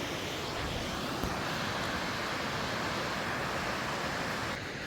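A waterfall in the Scottish Highlands roars as a steady, dense rush of broadband water noise, fairly near and unbroken for the whole stretch, with no voices.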